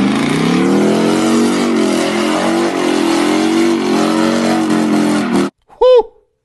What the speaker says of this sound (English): It was the most powerful engine in its class, and it sounded badass with an exhaust system,